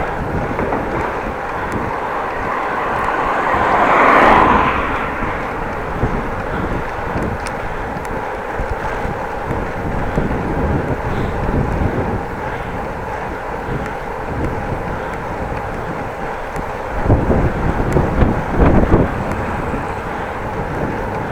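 A steady headwind buffets the microphone while someone rides a Dutch bike from Groningen to Appingedam, a constant loud roar with brief gusts swelling early on and again near the end.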